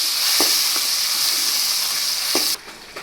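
Green chilies and tomato frying in a pan for a ripe banana shak, a loud, steady sizzle with a few soft spoon knocks from stirring, dropping off sharply near the end.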